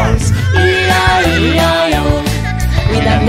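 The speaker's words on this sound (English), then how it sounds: "And on this farm he had a horse, E-I-E-I-O." Horse whinny in a sung Old MacDonald nursery rhyme, a loud wavering neigh over the music that lasts about three seconds.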